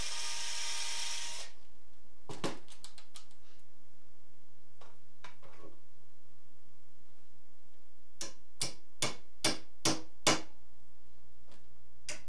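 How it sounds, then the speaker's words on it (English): Pre-drilling and nailing willow chair arms on a rustic fanback chair: a brief drill whir at the start, then scattered sharp taps and a closing run of six evenly spaced hammer strikes on nails, close and clear with no talk. "pre-drill and tack the back of the arms into place"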